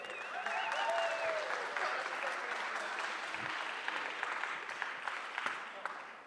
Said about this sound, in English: Mr. Stuart Ian Langridge, give him a round of applause.